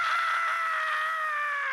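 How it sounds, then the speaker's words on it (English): A single sustained, high-pitched human scream, loud and close, holding one tone for nearly two seconds and slowly easing down in pitch. "That's actually me screaming."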